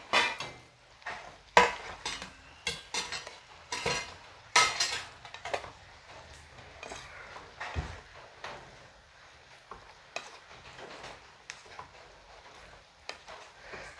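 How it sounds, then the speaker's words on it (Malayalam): Pieces of fried chicken are stirred and mixed into a simmering sauce in a pot. Irregular clinks, knocks and scrapes of a utensil against the pot come close up and alone, with no talk. "നന്നായിട്ട് മിക്സ് ചെയ്യാം"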